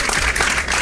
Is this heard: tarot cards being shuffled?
no